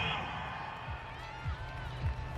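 A stadium home crowd in an American football video game roars in approval at a penalty call, a steady, wide wash of cheering that holds at even volume with a few soft thumps underneath.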